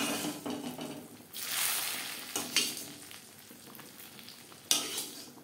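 Hot tempering (tarka) being poured into boiling radish and moong dal, giving a loud sizzling hiss, then stirring with softer bubbling and sharp spattering pops, heard close up.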